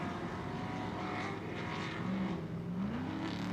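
Ultra4 off-road race cars roar in a continuous, fairly distant engine drone as they jump off the Argonne corner into the trees at the nighttime Crandon world championship race, with engine pitch sliding upward near the end.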